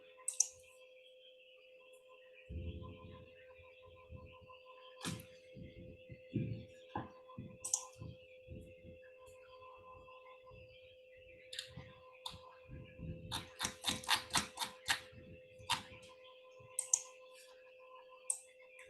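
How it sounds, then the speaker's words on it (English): Sparse, quiet computer mouse clicks and a few light keyboard taps sound close in an otherwise still room, with a denser flurry of clicking near the end. "Click this."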